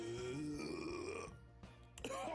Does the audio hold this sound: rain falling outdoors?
no